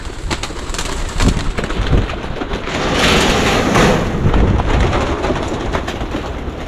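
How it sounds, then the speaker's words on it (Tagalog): Pigeons coo continuously over a loud, rumbling background, the soft calls blending into steady noise with no voices. "Healthy pong mga kalapati natin ha."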